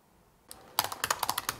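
Typing on a computer keyboard: a quick run of crisp key clicks starting after a brief near-silent pause, irregular in rhythm and close up, with no talking.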